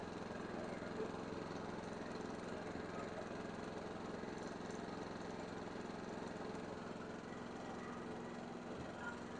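A small inverter generator engine runs steadily at a distance, a faint, even mechanical hum with a light buzzing texture throughout.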